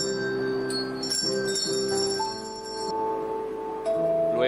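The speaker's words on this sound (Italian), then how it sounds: "Questo è l'inizio con la campana colorata." A colored bell rung in a social orchestra session, several bright metallic strikes with long ringing tones that overlap and decay, joined later by another sustained bell note, played alone without talk.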